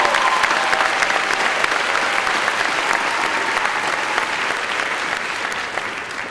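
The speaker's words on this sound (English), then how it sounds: "Let's give them a round of applause." Sustained applause fills a university commencement ceremony, a loud, continuous roar of many hands clapping from a large audience that stays steady and eases only slightly toward the end.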